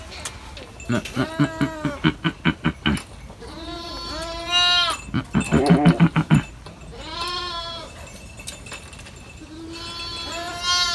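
Sheep and lambs on a farm bleat repeatedly, several overlapping calls in quick bursts, some rapid and wavering, others drawn out, close by and fairly loud.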